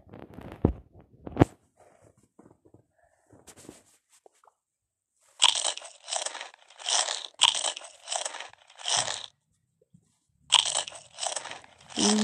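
Repeated crunchy bites of a cupcake being eaten in the life-simulation game PlayHome Plus, several loud chewing bursts in quick rhythmic clusters with short pauses between them, no talking.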